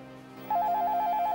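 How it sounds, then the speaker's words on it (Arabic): A telephone rings indoors in a domestic drama scene, an electronic ringtone of quick alternating high beeps starting abruptly over a low background hum, fairly close and clear. "رد التليفون ده"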